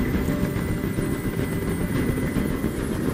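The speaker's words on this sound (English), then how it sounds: "I can't stand that noise anymore! Tell that helicopter to get out of here!" Steady, dense rotor-like drone of a helicopter hovering close by in the video game Detroit: Become Human, continuous and loud with no pauses for the full stretch.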